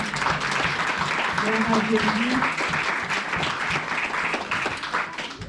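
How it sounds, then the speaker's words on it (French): Church congregation applauding and cheering, steady dense clapping with voices and shouts mixed in, loud and close throughout. "On acclame pour le roi des rois."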